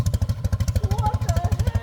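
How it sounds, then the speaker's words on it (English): A 77-year-old airplane engine idles very low at about 400 RPM, giving a loud, close, steady loping pulse of rapid regular firing beats, with faint voices murmuring underneath. "I have never seen an engine idle this low and be perfectly comfortable with it."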